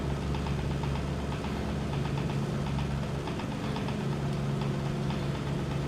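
A Junkers Ju 88 aircraft engine in a flight game runs at a steady, loud, rumbling drone with a rapid rhythmic pulsing as the throttle comes up, continuous and close, with no voices.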